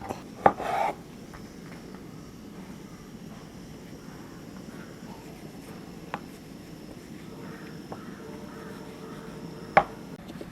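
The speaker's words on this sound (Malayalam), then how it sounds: "ഇനി നമുക്ക് തക്കാളി അരിയായിക്കുന്നുണ്ട്" A knife chops tomatoes on a board for a tapioca and chicken dish, giving a few sparse, sharp knocks spread far apart over a low, steady background hum.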